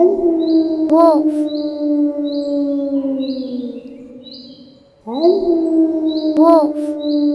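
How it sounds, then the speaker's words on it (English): Wolf howling, a long, sustained and slightly wavering tone that slowly falls away, then a second howl rising in its place, with faint higher yips in the background. "wolf,"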